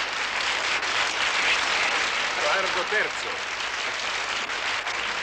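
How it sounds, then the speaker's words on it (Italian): A Roman cabaret singer is greeted by loud, continuous crowd applause that holds steady for several seconds, with a voice briefly heard over it. "Signore e signori, accogliamo con un calorosissimo applauso"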